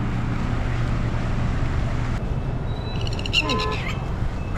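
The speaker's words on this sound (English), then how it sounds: "There's that bird again. Keeps trying to attack us." Bird calling close to a boat on the water in Sri Lanka, a few short harmonic calls rising near the end over steady engine and water noise.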